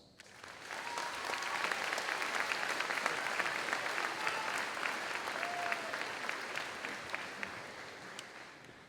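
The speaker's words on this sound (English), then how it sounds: "the students and I say thank you to you with a round of applause" Steady audience applause fills a school's eighth grade promotion ceremony, a dense clapping texture that swells quickly and holds evenly for several seconds before tapering, with no speech over it.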